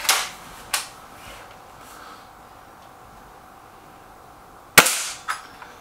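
Air rifle shots fired at league targets, comparing a Hatsan 900X Breaker and a suppressed Stoeger RX20 S2: two sharp cracks a few seconds apart, each with a short ringing tail, over quiet background.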